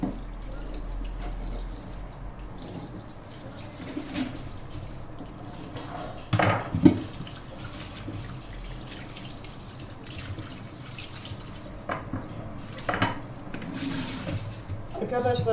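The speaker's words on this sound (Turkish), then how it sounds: "Şimdi hamsiyi yıkayacağım arkadaşlar." Tap water running in a kitchen sink while anchovies are rinsed by hand, a steady close stream broken by splashes and clatters as the fish are moved about, with a few sharper bursts midway.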